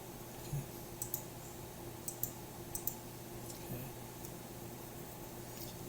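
Sharp mouse clicks while setting up a TP-Link Omada router, a handful of quick, distinct taps spaced irregularly over a low steady hum.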